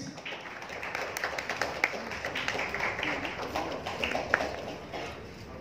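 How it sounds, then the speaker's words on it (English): Audience applause and clapping for actor Sushant Singh Rajput on stage at an event, a steady mid-level patter of many hands lasting throughout, with a few sharper individual claps standing out. "Sushant Singh Rajput, a big round of applause for him as well"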